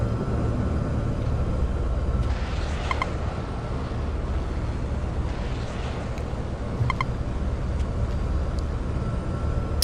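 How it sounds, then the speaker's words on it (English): Steady, loud rotor-and-engine drone of a helicopter in flight in a video game, filling the whole stretch without a break, with a few faint clanks and bursts over the top. "this was a terrible decision to get in this helicopter"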